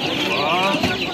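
Chickens cluck close by at a busy poultry market in Turtkul, with murmuring talk mixed in among the birds' calls.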